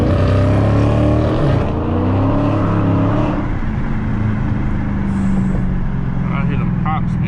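Dodge Challenger Scat Pack with a drag setup driving the Las Vegas Strip, loud engine and exhaust drone with shifting pitch and faint pops near the end, with someone talking over it.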